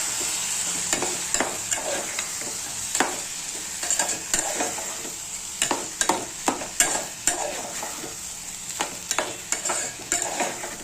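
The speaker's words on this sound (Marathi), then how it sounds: "आणि आता हा राईस त्याच्यामध्ये टाकायचा. थोडासा फ्राय होऊन द्यायचा." Rice frying in a pan with spiced masala, a constant sizzle broken by repeated scraping stir strokes that come in quick bursts, with no talking.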